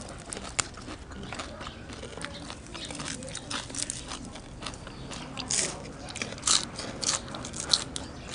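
Homemade pork cracklings are bitten and chewed, giving irregular crisp crunches close to the mic that grow louder and sharper toward the end, over a quiet outdoor background.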